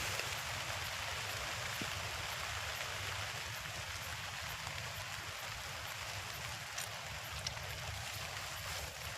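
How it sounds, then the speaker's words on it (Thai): Steady rain hisses across the whole clip, a dense, even wash of drops pattering close by with no voices and a faint low rumble underneath. "อู้ ฝนตก"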